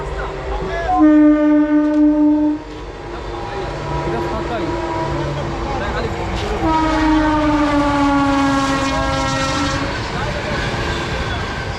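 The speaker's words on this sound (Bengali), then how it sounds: "না ট্রেনটা এসে গেছে" A train arriving at Duan railway station, on the line between Howrah and Kharagpur in India, sounds a loud, sustained horn blast, then a second long horn over a rumbling approach, heard fairly near with voices in the background.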